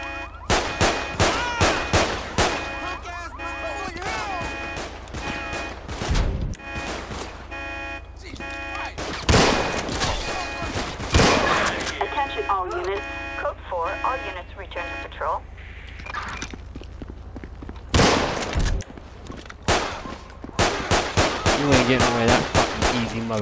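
Rapid bursts of gunfire in GTA 5 on PC during a police-patrol session, loud repeated shots in clusters with sirens wailing between them and someone talking over parts.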